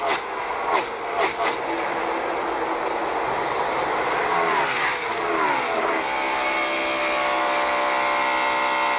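NASCAR stock cars racing on the final lap of an all-star race, a loud sustained engine roar with a car passing close by and its pitch falling away, under crowd and track ambience.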